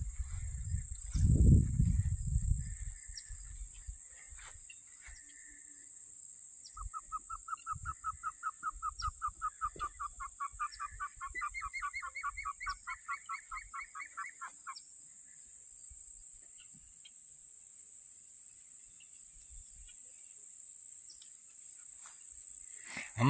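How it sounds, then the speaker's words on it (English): Ducks on a living historical farm give a run of rapid, repeated calls in the middle stretch, over a steady high insect drone, with a brief low thump near the start. "These ducks want to be on video."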